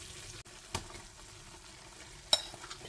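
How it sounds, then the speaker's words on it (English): Egusi frying in a pot gives a soft, steady sizzle with a couple of light utensil clicks, quiet and close, with no voices. "I think my egusi has fried to the point which I really like"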